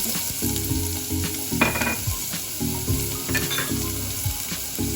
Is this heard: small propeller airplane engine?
no